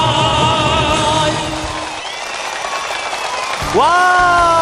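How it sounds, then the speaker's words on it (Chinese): Audience applause at a Cantonese TV singing-contest stage show breaks out as a song's last notes fade, a dense wash of clapping that carries on until a host's voice cuts in near the end. "多谢掌声"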